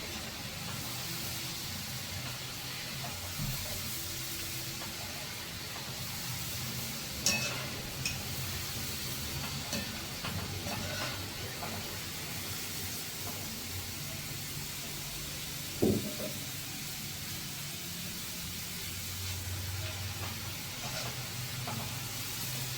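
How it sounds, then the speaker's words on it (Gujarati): Grated sweet potato frying in hot oil for chevda, a continuous steady sizzle and hiss with occasional soft clicks and knocks of a utensil against the pan. "ખમણને થોડું થોડું કરીને તળવાનું જો જાજુ ખમણ નાખી દઈએ તો તેલ ઉભરાઈ જાય ને તેલ બહાર આવી જાય"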